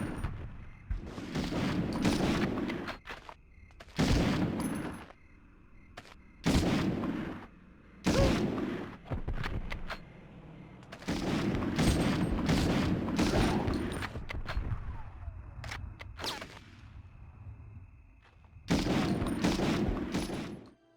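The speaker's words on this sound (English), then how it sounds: "Simply put, shooting your guns in Medal of Honor is impactful and satisfying." Gunfire from the PS1 video game Medal of Honor: repeated bursts of loud, booming shots in clusters separated by short gaps, with a steady low background hum between volleys.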